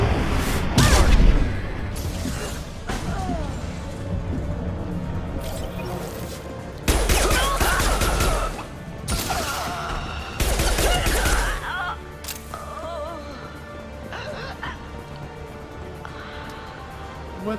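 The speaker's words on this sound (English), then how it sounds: "Taking heavy fire!" Bursts of heavy weapon fire and crashing impacts from the shooter game Mass Effect 2 come in several loud clusters separated by quieter stretches of combat ambience.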